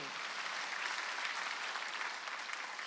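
A church congregation applauds during a Wednesday worship service, a steady, dense wash of many hands clapping at once, sustained evenly and fairly distant throughout.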